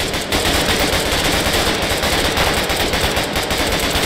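Sustained automatic gunfire in the video game Squad, loud and dense with rapid overlapping bursts throughout, close and without talk.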